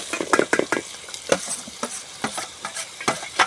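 Raw mango pieces frying in a pan with softened onions and cashews, a light sizzle under repeated spatula stirs and scrapes that clack against the pan in an irregular rhythm, close and clear, no voices.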